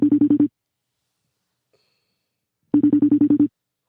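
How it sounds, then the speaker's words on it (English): Ringback tone of an outgoing phone call that goes unanswered: two separate bursts of rapid pulsed electronic ringing with silence between, heard clearly with no voices. "Pick up this fucking phone."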